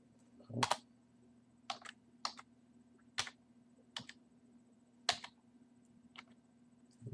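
Scattered clacks of typing on a computer keyboard, close and clear in short irregular bursts over a steady low electrical hum.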